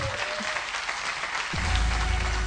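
An audience applauds in a television studio, a short burst of dense clapping that swells louder toward the end.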